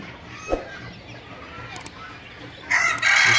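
Padovana chickens cluck faintly in the background, then a rooster crows loudly and close by near the end.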